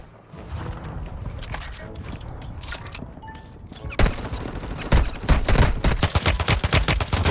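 A teammate's gun in Warzone Mobile fires rapid, loud, close bursts in a steady automatic rhythm, starting midway and continuing to the end over quieter game sounds.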